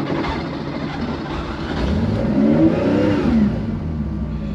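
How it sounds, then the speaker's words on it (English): A restored 1974 Porsche 911 RSR IROC tribute, already warm, fires up and revs, its flat engine note rising and swelling close by, then settling into a steady, loud idle with no voices. "turning the car on here"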